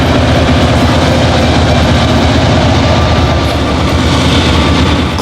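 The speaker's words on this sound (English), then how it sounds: "Two GP38-2 locomotives are in charge of today's shunting." Two CSX GP38-2 diesel locomotives shunting at Clifton Forge give off a loud, steady low engine rumble with rolling rail clatter, continuous and close throughout.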